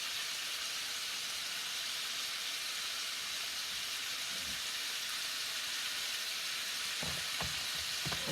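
Ground lamb and beef sizzle and hiss steadily in a hot pan for moussaka, a continuous close frying crackle with a few soft scraping stirs near the end.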